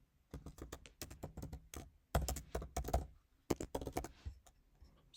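Rapid, uneven keystrokes clatter on a computer keyboard as a name is typed in, close and clear, coming in bursts with short pauses between runs of keys.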